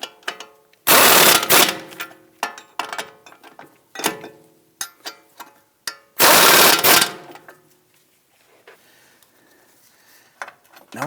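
Front strut-to-knuckle bolts on a 2001-2009 Volvo S60 being snugged down with a ratchet or impact tool, heard as loud bursts of whirring separated by short clicky ratchet strokes and rattles, close up with no talk.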